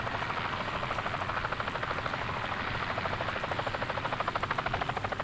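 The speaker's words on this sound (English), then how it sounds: "As you stand there, you hear the sound of a helicopter." Military helicopter heard from a distance, its rotor thumping in a fast, even pulse that grows slightly stronger toward the end, with a steady engine whine underneath.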